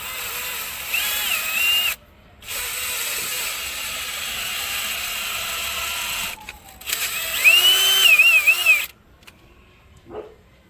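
A power drill with a special bit whines in long bursts with short pauses between, close and loud, its pitch wavering as it bites into metal, working on stripped head bolts in an engine block.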